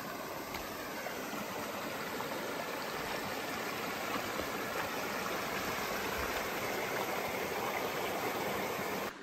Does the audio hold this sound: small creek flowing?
yes